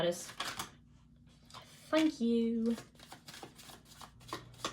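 Tarot cards riffled and shuffled by hand over the lap, a dense run of soft, rapid papery flicks close by, broken by brief speech and a short hum.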